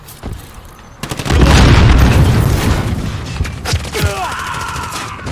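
Grenade blast in a Call of Duty multiplayer match: a loud booming explosion followed by a rumbling tail, with scattered gunfire crackling before and after.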